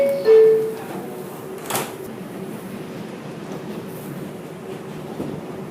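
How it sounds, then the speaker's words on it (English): An express 4 subway train bound for Burnside Avenue runs steadily with a continuous low rumble and hiss of rolling wheels, broken by a brief tone near the start and a short squeal or clunk partway through; no talk is heard. "This is a Burnside Avenue bound for express train."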